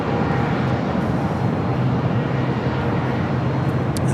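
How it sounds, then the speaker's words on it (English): A Boeing 747-400 freighter at LAX, a loud steady broadband jet roar with a low rumble, close and continuous for a few seconds without any voices. "It's a 21-year-old 747-400 freighter."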